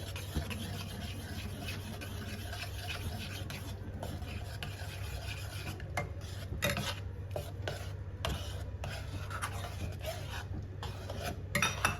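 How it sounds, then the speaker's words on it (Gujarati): Boiled milk mixed with milk powder is stirred in a pan for kesar peda, giving a continuous soft scraping and rubbing close by, with a low steady hum underneath and a few sharper utensil scrapes near the end. "હવે આને પ્રોપર સરસ રીતે હલાવીશું જ્યાં સુધી એક સ્મૂથ પેસ્ટ જેવું ના થઈ જાય"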